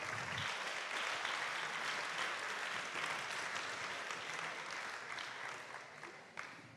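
An audience applauds at a French round-table talk on preserving health, a dense, sustained clapping that stays steady and then thins slightly near the end, with no one speaking.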